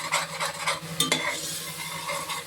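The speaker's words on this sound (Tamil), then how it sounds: "வெள்ளைப்பூடு போட்ட நிமிஷத்தில் நமக்கு வந்து குக்கரில் ஒட்ட ஆரம்பிச்சிடும். நம்ம உடனே கிண்டி விட்டுறணும்." Garlic frying in a pressure cooker while being stirred for vegetable biryani: close, loud scraping of a spoon against the metal pot over a soft sizzle, with quick strokes and a sharp clink around the middle.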